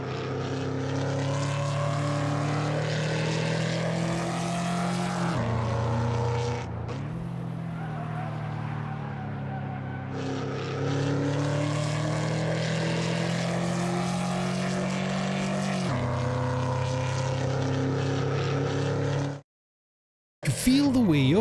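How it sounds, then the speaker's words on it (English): Ford Crown Victoria engine in Assetto Corsa, droning steadily with a strong low hum and layered overtones that rise and fall as the throttle changes, near and loud, briefly cutting out before the end. "it's a nice composite of different sounds and overtones, resulting in a very realistic motor sound"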